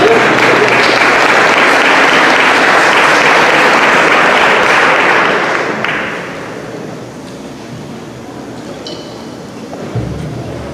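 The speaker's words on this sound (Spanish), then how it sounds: "Vamos a recibirle con un fuerte aplauso." A church congregation gives loud, sustained applause as a preacher is welcomed; the clapping fills the first six seconds, then fades into quieter room noise with a faint thump near the end.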